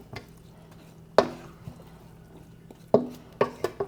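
A spoon stirring buffalo wing sauce seasoned with smoked paprika in a jar, giving a few sharp knocks and clinks against the glass with quiet liquid sloshing between them.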